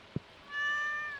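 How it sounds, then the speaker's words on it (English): A cat meows once in Stardew Valley, a single drawn-out, clear tonal call following a brief soft thump, heard alone against quiet game background. "that's the cat, isn't it?"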